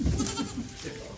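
Baby goats bleating close by in a short, continuous burst, with outdoor background noise and possible voices mixed in.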